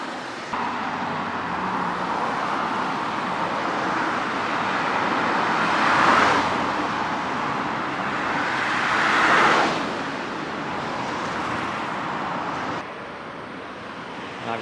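Constant traffic on a busy road in Japan, a loud, continuous roadway rumble with two passing vehicles swelling and fading around the middle, heard close from the roadside without talk.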